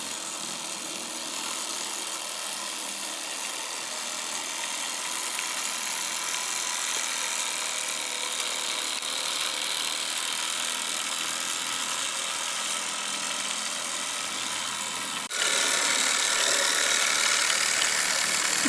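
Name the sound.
Meccano model engine running on garden railway track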